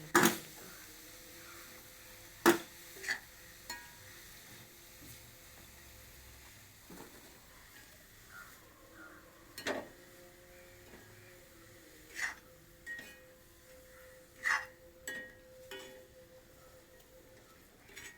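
Spinach and jackfruit seeds being stirred in a pan give faint, low sizzling, broken by irregular sharp clicks and scrapes of the spoon against the pan. No one speaks.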